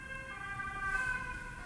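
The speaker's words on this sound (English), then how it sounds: "sirens outside, sorry" Emergency vehicle siren outdoors, a steady wailing tone over road traffic rumble, moderately loud and fairly distant, with no talking.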